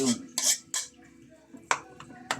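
Bamboo shoot stew being stirred in a pot, heard as a few scattered metallic clinks and scrapes of the spoon against the pot, close and fairly loud, with a voice talking quietly between them.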